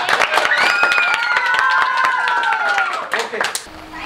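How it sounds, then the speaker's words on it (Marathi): Clapping and cheering from a crowd at the close of a felicitation event in a comedy village skit, mixed with excited shouts and whistles, loud and close, fading toward the end. "जोरदार टाळ्या एकदा"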